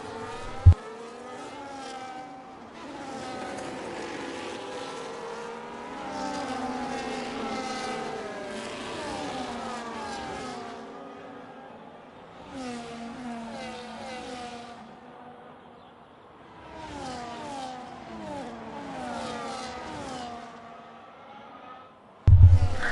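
Race cars in an F1 racing video game run in a close midfield pack, engines revving and whining steadily as they swap places, with rising and falling pitches over a continuous roar.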